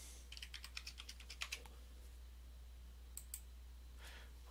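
A root password is typed on a computer keyboard in a quick run of light, close clicks, followed by a couple of isolated taps, over a low steady electrical hum.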